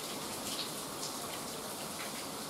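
Steady storm rain in rural Köyceğiz, Turkey, pours down in a dense, hissing wash, close and constant, with no voices.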